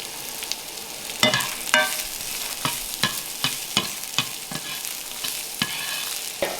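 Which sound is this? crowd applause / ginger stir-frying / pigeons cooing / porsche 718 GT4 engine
ginger stir-frying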